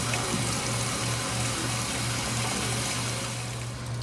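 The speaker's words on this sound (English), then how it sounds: "We're just going to use regular old tap water to do this, just as hot as it'll go." Hot tap water runs steadily from a faucet over cooked noodles in a kitchen sink, producing a constant loud splashing rush with a low hum underneath and no talking.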